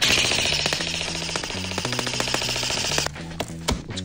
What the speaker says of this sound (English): This is an Elite Force CFR-X with iTrace unit